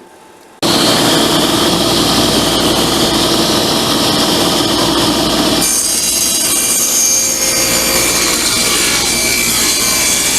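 A power saw whirs into life and cuts through a poplar wood board for a lap desk, with a loud, sustained rasping whine whose tone shifts midway through the cut.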